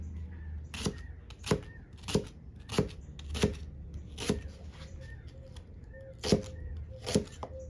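A knife chopping white onion on a board, about a dozen crisp, evenly spaced cuts at a steady rhythm, close and quiet.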